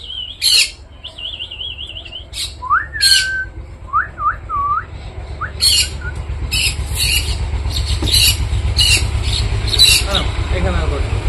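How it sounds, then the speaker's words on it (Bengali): A mynah bird calls with sharp screeches and whistled chirps, close by among pet birds. The calls come in short bursts over steady low background noise. "শালিক ডাকছে, এখনই ডাকবে"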